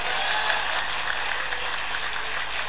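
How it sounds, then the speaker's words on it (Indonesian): A crowd at a pesantren haflah gathering applauds the santri with steady, even clapping that fills the short stretch at moderate loudness, with a low hum underneath. "Tepuk tangan untuk santri."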